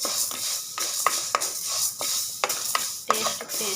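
Lentils, peanuts and coriander seeds roasting in a pan, a steady soft sizzle broken by repeated scraping stirs and clinks of a spoon against the metal, close up with no talk.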